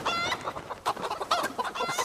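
Chickens in a coop on a farm in Project Zomboid clucking busily, several birds overlapping with repeated close clucks and squawks, loud and continuous with no speech over them.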